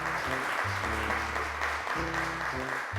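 Applause sends a child back to her seat on a children's television program, with steady clapping over a low, tonal, music-like drone that runs underneath throughout.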